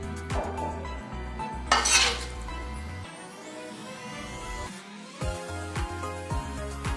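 Stir-fried squid rolls being scraped out of a wok onto a plate, with loud metal-on-metal clatter of a spatula against the pan in several bursts, then quieter clinks and a final run of tapping scrapes.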